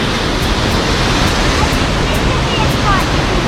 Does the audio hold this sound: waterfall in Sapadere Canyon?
yes